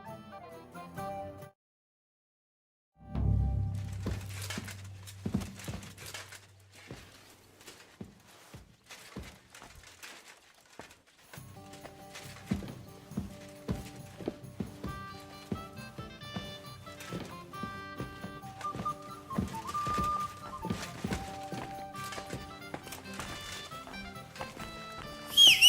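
Horse hooves clip-clop steadily while riding in the video game Kingdom Come: Deliverance II, a fairly near rhythmic trot with scattered thuds, a brief silent gap early on, and faint music and ambience underneath.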